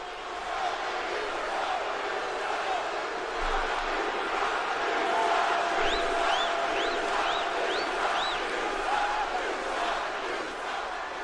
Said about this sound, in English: Listen to the boos, though.